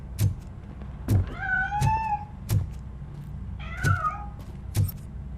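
A cat in the video game Robocop: Rogue City meows several times with rising, wavering pitch, clear and close, over a steady low background hum and periodic soft thumps.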